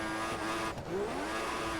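Video-game Formula 1 car in the F1 2014 game, engine held at a high, steady rev with a droning whine and a brief pitch dip and rise partway through, suggesting wheelspin, heard alone without speech.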